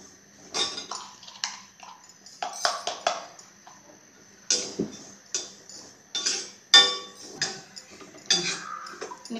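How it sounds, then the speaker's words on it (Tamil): Cumin seeds dry-roasting in a pan while making rasam powder, giving faint scattered crackles and ticks with occasional light metallic clinks of the pan and spoon, irregular and close. "சீரகம் வந்து சவுண்ட் கேக்கு பொரியிறப்போம்."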